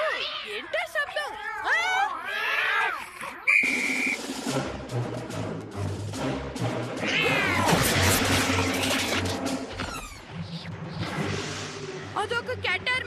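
Cartoon cat meowing, a series of loud, sliding wails and caterwauls over a bright musical score, with a whistle-like tone and lively voices in between.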